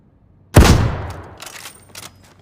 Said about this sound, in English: let's do a headshot with a sniper real quick